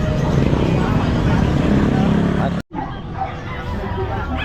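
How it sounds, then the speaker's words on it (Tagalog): Dogs bark at the Grotto pet market, with repeated yips and barks mixed into crowd babble and nearby chatter, briefly cut off partway through. "At higit na mas marami ang mga aso."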